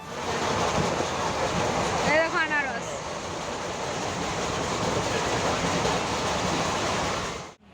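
The Haldibari Superfast Express, a weekly Kolkata to Haldibari train, rumbles steadily at speed, with a continuous broadband roar and a short squeal midway that fade out at the end; talk is faintly mixed in.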